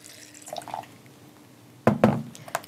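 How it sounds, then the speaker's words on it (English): Water is poured onto breakfast cereal flakes in a blender, giving a quiet trickle and then a short burst of close splashes and drips near the end. "Add water just to cover the flakes."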